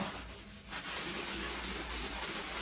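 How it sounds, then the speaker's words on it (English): A sponge loaded with cleaning paste scrubs a floor, giving a steady, close rough rubbing that continues throughout without a break. "And now you just work on scrubbing at your floor, like so."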